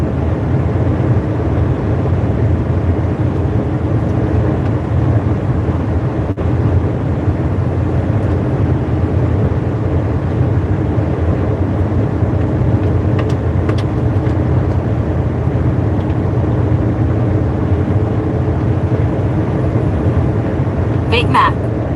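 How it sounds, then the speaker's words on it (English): Inside the cab of a DAF truck driving on a road in northern Britain, a steady low engine hum and road roar run continuously and evenly, a few faint clicks near the end. "this is a powerful and mighty DAF"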